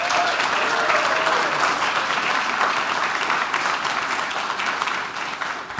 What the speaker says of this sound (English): Let's give our young man one more round of applause.